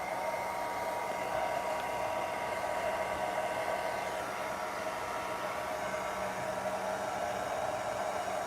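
A hair dryer blowing steadily to dry paint on a sculpted portrait bust, a constant whirring hum with an airy hiss, close and unbroken, with no voices over it.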